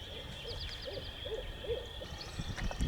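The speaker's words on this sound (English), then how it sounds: "I think that's a real owl" An owl hoots softly in the distance, a short series of low, evenly spaced hoots over a quiet outdoor background with a steady high insect drone.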